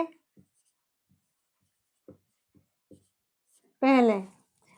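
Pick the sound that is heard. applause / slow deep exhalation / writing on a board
writing on a board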